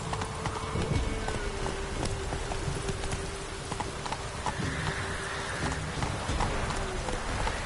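Roach the horse galloping in The Witcher 3, a steady rhythmic clip-clop of hooves at close range with faint background ambience and a brief murmur of voice.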